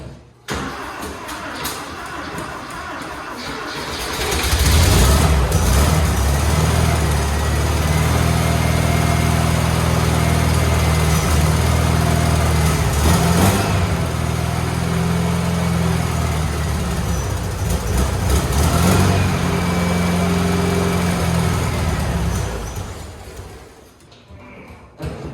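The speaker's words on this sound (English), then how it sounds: "Let's start on the motor" A custom hot-rod Porsche 911 RWB engine cranks and catches after a few quiet seconds, then settles into a steady, loud, rough idle for nearly twenty seconds before cutting off, with no talking.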